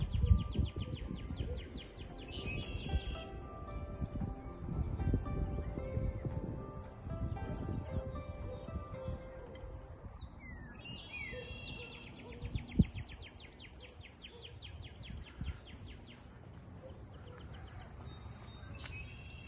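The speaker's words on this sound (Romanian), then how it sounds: "V-am lăsat puțin să ascultați ciripitul păsărilor" Several birds chirp and trill outdoors at moderate distance, repeated bursts of song over a soft rustling background with occasional low thumps.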